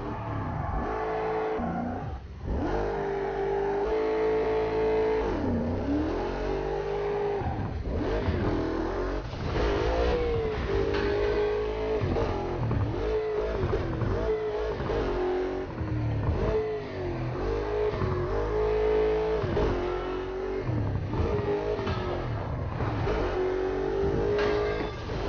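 A car engine in Burnout Paradise revs hard throughout, whining up and down in pitch with repeated rises and drops as the car races toward a ramp at top speed, loud and continuous with no talk.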